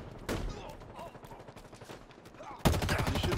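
Rapid automatic gunfire in Halo Infinite, a burst of close shots at the start, quieter game noise and scattered reports in the middle, then a loud sustained volley at the end.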